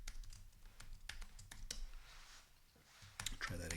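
Password typed on a Mac computer keyboard: a quick run of light, close key clicks in uneven bursts, with a brief pause before a final flurry of taps.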